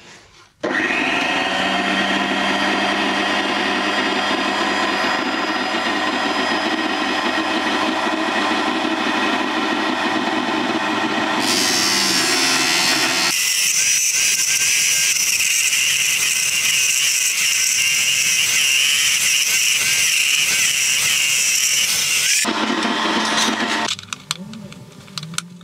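A power saw runs loud and steady through wood, its pitch shifting as the blade bites and frees, with a vacuum extractor whining alongside before both wind down near the end.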